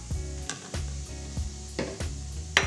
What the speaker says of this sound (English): And it does make like a sizzling noise or something like that.